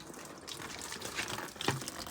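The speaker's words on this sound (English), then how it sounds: "I'm going to keep pouring water in here, collect it and see what comes out the bottom" Water being poured through a coolant pipe on a Fiat 238 van with an overheating fault, running and trickling steadily with a brief louder gush near the end, fairly quiet and close.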